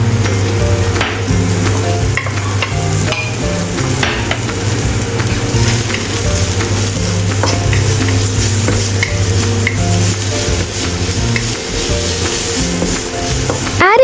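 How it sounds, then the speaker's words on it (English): Shiitake mushrooms and chopped ginger stir-fried in cooking oil: a steady loud sizzle with repeated scraping and tossing of a utensil in the pan, over a constant low hum, no talking. "Add chopped ginger and stir-fry with shiitake mushroom."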